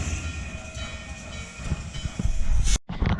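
A train backing up at Strasburg, Pennsylvania, rumbles and hisses steadily up close, with a low mechanical roar that swells toward the end before a brief gap and a return of the rumble.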